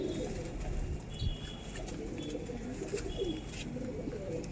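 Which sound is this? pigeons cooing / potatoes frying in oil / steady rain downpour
pigeons cooing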